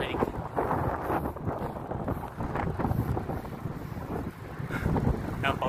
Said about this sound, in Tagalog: mahangin na masarap ang hangin